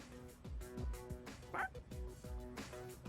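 A dog barks several times in the video game Persona 3 Reload, short yipping bow-wows set against background game music and some voice sound.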